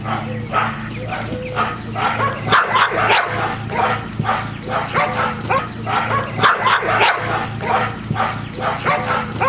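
Dogs bark repeatedly during bark-and-hold guard training on an object, with steady rhythmic barks and occasional yips fairly close, over a low background hum.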